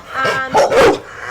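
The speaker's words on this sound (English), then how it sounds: "Come on, you barking at the camera?" A dog barks near the camera, two or three loud barks in quick succession with a brief whine before them, heard alone without talk.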